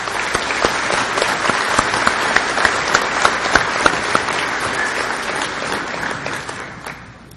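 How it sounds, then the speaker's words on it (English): Commencement crowd applauding the Board of Trustees and Administration, a loud, full round of clapping with distinct close claps popping out of the wash before it fades at the end. "Please join me in recognizing our Board of Trustees and Administration with a round of applause"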